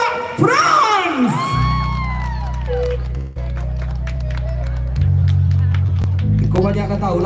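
A crowd cheers and claps for a duo of Minang singers at a Minangkabau performing-arts competition, with a loud burst of whoops and applause mixed under an amplified announcer's voice.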